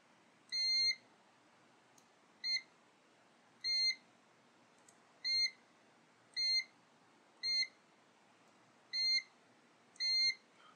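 Short high-pitched electronic beeps from a Zoyi ZT-980L multimeter's continuity test repeat at irregular intervals, eight in all, fairly quiet over a faint hiss with no voices.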